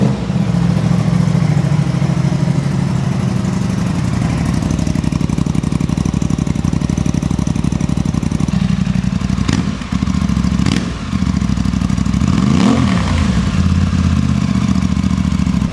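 An Aprilia RS660 motorcycle fitted with a MIVV Delta Race exhaust idles loudly and close by, with a steady clattering rumble broken by two sharp throttle blips and a brief rev near the end.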